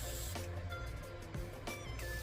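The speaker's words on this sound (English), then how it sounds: "Give it a little spray, top it up with water." Three short hissing spritzes from a spray bottle misting water into a tarantula enclosure, close by, with brief pauses between them over a low steady background hum.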